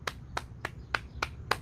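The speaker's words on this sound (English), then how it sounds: "Clap our hands." Hands clap during a morning bouncing and chi exercise routine, six crisp, evenly spaced claps heard close and alone.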